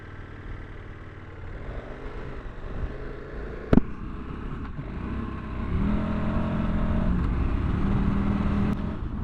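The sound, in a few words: 2024 KTM 1290 Super Adventure R motorcycle riding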